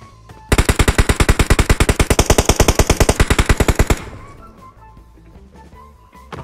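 Sustained automatic machine gun fire in the battle royale game PUBG Mobile: a rapid, evenly spaced burst of about thirty loud, close shots lasting roughly three and a half seconds, then fading into quiet ambience.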